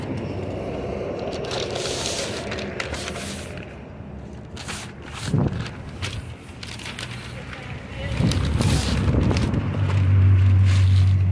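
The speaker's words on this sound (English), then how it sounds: "A little too windy." Strong wind buffets an outdoor protest outside a Scientology building, roaring in uneven gusts against the microphone and rising into heavy rumbling blasts toward the end, with a person talking and rustling nearby.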